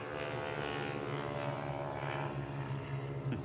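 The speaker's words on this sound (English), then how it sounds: "Ford Trimotor." A Ford Trimotor flies past with its three propeller engines sending out a steady, droning hum that sounds fairly distant and soft throughout.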